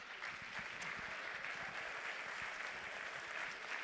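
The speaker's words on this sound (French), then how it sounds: "Vous l'applaudissez, s'il vous plaît." An audience at a French awards ceremony applauds a guest called to the stage, a quiet, distant, steady patter of clapping from a modest crowd with no voices.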